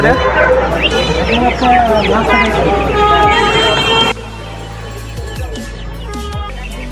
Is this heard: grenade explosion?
no